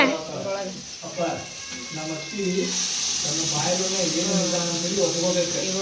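Masala frying in hot oil in a home kitchen, a steady sizzle and hiss running throughout beneath ongoing talk from women nearby.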